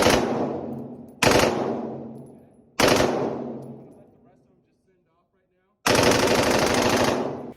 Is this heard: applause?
no